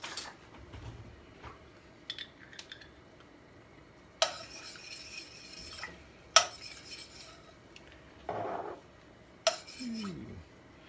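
A metal spoon scrapes tamarind paste off into a Thai fish soup pot, giving sharp clinks and taps against the pot rim at irregular intervals, with brief rubbing scrapes between them in a quiet kitchen.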